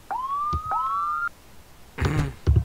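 Electronic ambulance siren in the Emergency 4 rescue video game, two rising wails followed by a couple of short thumping in-game sounds, fairly loud with no voices.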